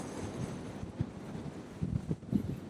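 Gusty wind buffets the microphone on top of Blackrock in the Ballyhoura Mountains, a steady low rumble with louder bursts near the end, no voices.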